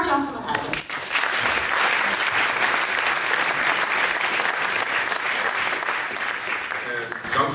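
Warm audience applause for philosopher Gert-Jan van der Heiden at a lecture on Nietzsche and post-truth, a dense steady clapping that holds at full strength throughout.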